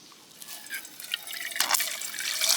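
Water poured from a 3-liter water bladder into a cup, a faint, thin trickle with scattered drips that grows slightly fuller toward the end, heard alone and close.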